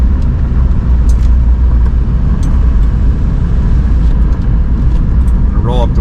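A Jeep Liberty KJ diesel rolling down the road, a steady loud rumble of engine and road noise heard from inside the cab, with a brief squeaky sound near the end.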